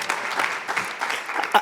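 An audience at an evening celebration of Dr. King's legacy applauds, a dense, even patter of many hands clapping close by for the whole short stretch.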